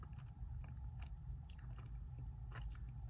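Close, quiet chewing of chewy fig chocolate, soft repeated squishy bites and mouth sounds with occasional sharper clicks, no talking.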